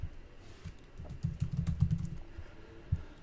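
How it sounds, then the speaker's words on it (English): Typing on a computer keyboard, quiet close clicks in uneven bursts with a busier stretch of rapid keystrokes in the middle and a last firm tap near the end, no voices. "I'm gonna type this out."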